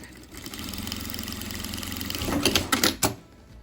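A sewing machine stitches the lining of a coin purse, its motor whirring steadily at a close, moderate level, then a few quick louder mechanical clacks near the end before it stops.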